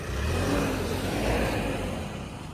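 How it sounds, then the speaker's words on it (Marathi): A car engine running and revving, loud, close and continuous for the whole stretch, with no voices over it. "तर चालू झालेली अजय भाऊंची गाडी"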